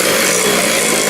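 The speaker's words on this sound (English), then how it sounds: "whisk it through." An electric hand whisk runs through no-bake lime cheesecake filling, a loud, close, steady motor whir with a gritty, buzzing edge that holds without pause and no voices over it.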